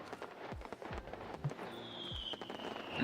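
Fireworks in the Old Market Simulator video game: faint, scattered pops and crackles with whistling streaks, quiet and distant against soft background noise.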